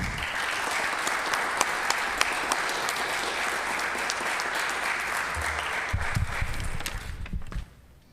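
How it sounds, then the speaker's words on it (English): Sustained audience applause after student symposium presentations fills a hall, dense and even for about seven seconds before tapering off quickly, with a few louder nearby claps. "Can we give another big round of applause to our 4 speakers, to Nick and Gino and Christian and Matt."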